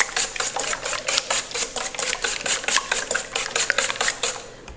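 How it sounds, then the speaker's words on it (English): A small hand whisk beats four eggs in a bowl for a corn pudding, making rapid, steady, evenly spaced clicking strokes close up with no talking. "So I'll beat those 4 eggs."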